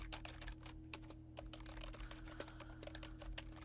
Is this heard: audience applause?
no